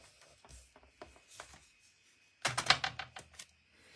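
A small blade cuts along the grooves of a card for a craft project, giving scattered faint scrapes followed by a close burst of quick crisp cutting clicks, then quiet.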